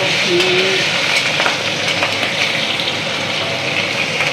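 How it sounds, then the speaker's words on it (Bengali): A fish head fries in oil in a pan in a home kitchen, giving a loud, close, continuous sizzle with small crackles and pops throughout. "এখনো চলছে মাছের মাথা ভাজা"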